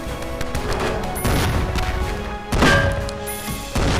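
Gunfire in the video game Cortex Command, dense bursts of shots and impacts crashing in over a cluttered battle soundscape, with heavy hits around the middle and near the end.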